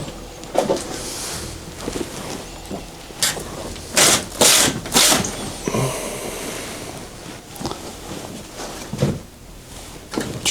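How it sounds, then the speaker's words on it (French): Curtain pulled shut in a house during a paranormal investigation, with several rasping sliding swishes of fabric and rings, clustered near the middle and spread over quieter rustling and room noise. "Je vais fermer le rideau."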